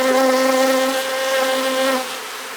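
A swarm of agitated honeybees being brushed off a hive frame gives a loud, steady, close buzz with a bright, reedy drone that eases slightly toward the end.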